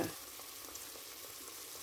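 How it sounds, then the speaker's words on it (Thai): Napa cabbage stir-fried with pork in a pan gives a steady, quiet sizzle with light stirring scrapes, heard alone without talk. "ผัดผักกาดขาวใส่หมูนะคะ"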